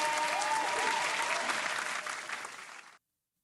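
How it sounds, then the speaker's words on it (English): A crowd applause sound effect bursts into dense, loud clapping that holds steady, then tapers and cuts off abruptly after about three seconds. "Air horns, hand claps"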